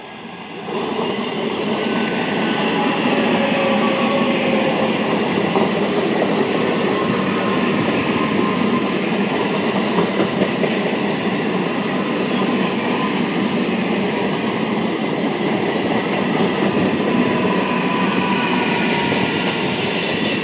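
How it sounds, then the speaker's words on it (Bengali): A down Chandanpur–Howrah local electric train with an Alstom rake, Howrah division, runs through Baruipara station on the Howrah line. Its steady rumble and rattling wheels stay loud and close for the whole stretch, with no voices. "এটি ডাউন চন্দনপুর হাওড়া লোকাল।"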